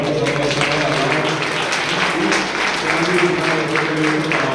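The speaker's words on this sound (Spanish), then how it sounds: "le queremos pedir a nuestros músicos con un fuerte aplauso que puedan pasar a la sala de abajo" An audience at a musical review of the two wars, held by a defense ministry, gives the musicians strong applause, a thick steady roar of clapping that holds level throughout over a faint murmur of voices.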